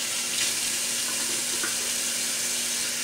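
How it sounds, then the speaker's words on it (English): Tap water runs steadily while a shaving brush is rinsed under it at a sink, a continuous close splashing hiss with no talking. "So I just washed out my brush."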